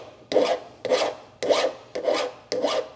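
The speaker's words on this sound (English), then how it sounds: "So this is where that file comes in. So just lightly kind of put it on the end," A hand file rasps the burr off the cut end of a brake line, giving five short, evenly spaced scraping strokes, close up and fairly quiet, with no talking.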